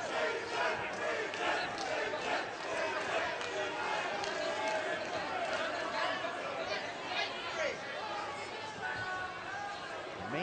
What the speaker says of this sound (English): Amazing how the crowd got into that